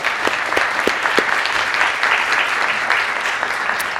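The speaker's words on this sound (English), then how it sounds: "let's give the panelists a round of applause" Sustained applause from a conference audience for a panel of speakers, a dense steady clatter of many hands filling the room at close range, with a few sharper claps standing out.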